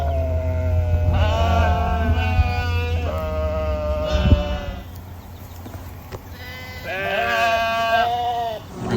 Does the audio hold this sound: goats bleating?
yes